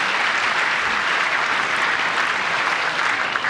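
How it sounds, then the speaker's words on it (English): An audience gives a standing ovation, with dense, loud, sustained clapping that fills the space evenly from start to finish. "gave him a standing ovation and clapping"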